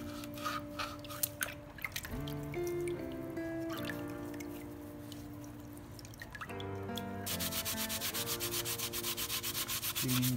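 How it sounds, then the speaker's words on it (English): Aquarium filter accessories being scrubbed and rinsed in dirty tank water, a steady rubbing with occasional drips, heard under tonal background music. "Cleaning the accessories."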